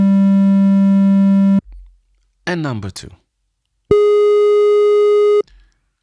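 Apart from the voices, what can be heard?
two pitch tones for aural skills comparison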